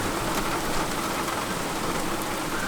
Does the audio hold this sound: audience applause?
no